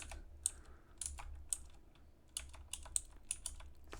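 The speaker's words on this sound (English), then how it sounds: "for this exercise we're just going to type in some random values" Quiet, steady typing on a computer keyboard: irregular clusters of light key clicks with short pauses between bursts, close and alone with no talking.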